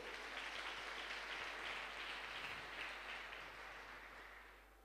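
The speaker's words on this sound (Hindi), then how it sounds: "सबसे पहले इनके लिए जबरदस्त तालियां होनी चाहिए दोस्तों" Audience applause at a stage event, a dense steady wash of many clapping hands that fades slightly toward the end, heard somewhat distant and alone with no talk over it.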